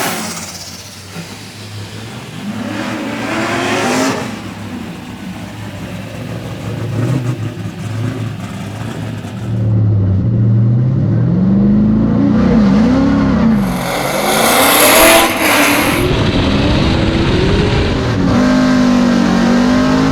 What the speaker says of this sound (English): So this is what happens when drift drivers go drag racing.